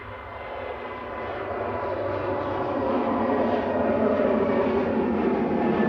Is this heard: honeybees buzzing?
no